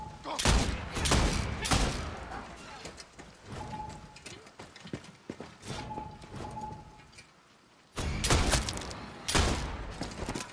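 Gunfire in Far Cry 6 comes in loud bursts at the start and again near the end, with scattered shots and mechanical clatter between them and no voice.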